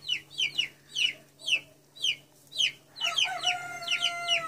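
Ross 308 broiler chickens clucking close by, a series of short, rhythmic bursts of clucks with brief pauses, growing busier and more overlapping toward the end over a faint low hum.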